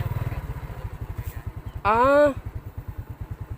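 A motorcycle engine chugs at idle in a steady low pulsing rhythm, close by, with a brief voice cutting in over it midway.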